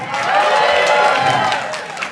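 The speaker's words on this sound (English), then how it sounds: "So give yourself a round of applause for that." Loud audience applause and cheering at a stand-up comedy show, a dense wash of clapping and shouts that swells and then eases over about two seconds.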